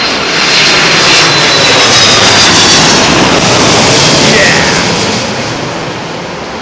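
A jet airliner arriving on runway 27L at London Heathrow roars past close by, a loud, dense engine rumble with a high whine that holds steady and then slowly fades as it moves away.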